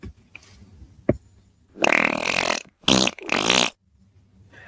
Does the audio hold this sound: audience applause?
no